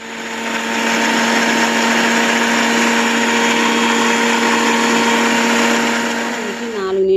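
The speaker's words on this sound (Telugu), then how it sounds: "గ్రైండ్ చేసుకోవాలండి మిక్సీ జార్లో వేసుకొని" A mixer grinder jar whirs loudly and steadily as it blends dragon fruit and pomegranate into juice, a constant close motor drone that spins up quickly and winds down near the end.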